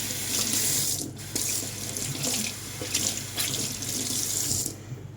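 Tap water runs into a sink to soak a small applicator pad used for cleaning a washing machine door seal, flowing in a steady close stream with brief breaks.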